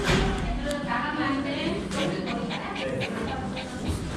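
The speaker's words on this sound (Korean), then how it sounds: "왜 이렇게 짖었어?" A dog barks at a dog cafe, giving a few sharp yips and whimpers amid a busy indoor background while a person talks throughout.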